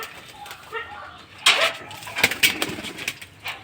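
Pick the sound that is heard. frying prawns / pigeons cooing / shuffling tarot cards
pigeons cooing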